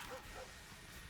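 A short dog bark from a card in the MTG Arena digital card game, one or two quick yips, faint and brief within the game's background sound.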